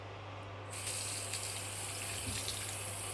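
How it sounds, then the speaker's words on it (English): Tap water runs steadily into a bathroom sink as someone rinses their face, a continuous close splashing rush that swells after a brief quieter start. "I leaned over the sink to rinse my face, hoping the cold water would wash away the nausea creeping up on me"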